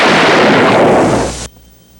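A single loud, close gunshot sound effect from an Old West revolver, a sharp blast with a dense roar that cuts off abruptly, leaving near silence.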